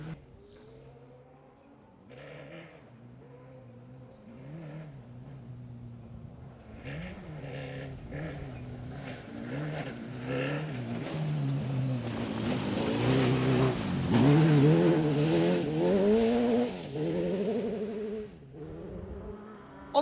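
A rally car charges along a gravel stage at Walters Arena during the 2019 AWDC opening round. The engine note climbs and swells steadily, peaking loud and close before easing off again.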